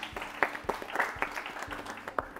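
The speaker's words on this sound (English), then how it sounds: "Let's clap for them." Scattered audience clapping at a national quiz competition, a thin round of claps with a few sharper hits standing out over a low background hum.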